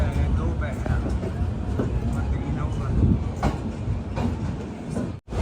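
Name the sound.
train arriving at Shri Mata Vaishno Devi Katra railway station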